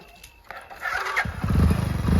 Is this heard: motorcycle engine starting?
yes